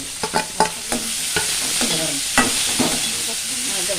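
Onions fry with grated ginger in a pan, a continuous close sizzle broken by several sharp taps and scrapes of a stirring spoon.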